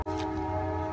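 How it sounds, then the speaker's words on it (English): A passing train rumbles at a steady level with a sustained tonal whine and low drone, heard from indoors at moderate loudness with no speech. "sorry for the train"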